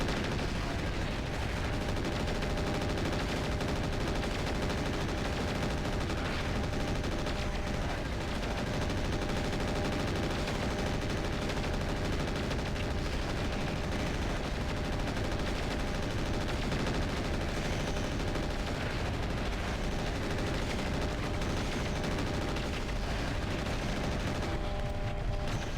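Mech weapons in MechWarrior 4 fire without a break, a dense, loud and continuous roar of shots and impacts that runs throughout with no pause.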